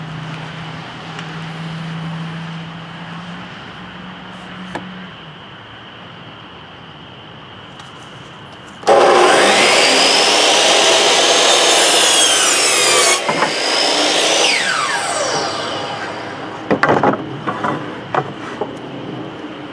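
A miter saw slices through a seven-foot wooden board, the blade spinning up and then ripping loudly through the wood for several seconds before it winds down, with a quieter motor hum before the cut and clattering afterward.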